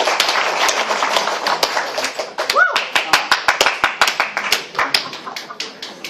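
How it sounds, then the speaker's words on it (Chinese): An audience at a medical conference applauds a speaker, first in a dense burst of clapping, then thinning into scattered, separate claps, with a voice speaking over it. "请大家掌声鼓励。"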